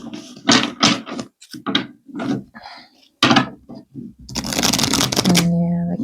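A deck of cards being shuffled at a table, producing a brisk burst of riffling and flapping near the microphone toward the end, after stretches of a person talking.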